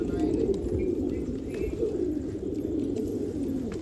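Pink Patiyala pigeons coo on a rooftop, a dense, continuous low burbling from several birds close by.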